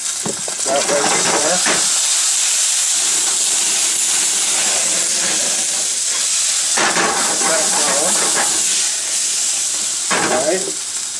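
Onion and garlic sizzle in a frying pan with a steady, bright hiss throughout, while a person talks briefly over the cooking.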